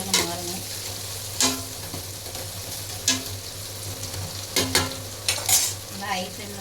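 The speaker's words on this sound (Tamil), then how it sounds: "நல்லா வந்து ஃப்ரை பண்ணிக்கலாம்" Food frying in ghee over a high flame for biryani, a steady close sizzle with a low hum underneath and several sharp stirring scrapes at irregular moments.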